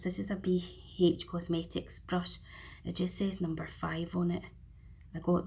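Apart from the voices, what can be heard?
No distinct noise like a dog, phone or traffic.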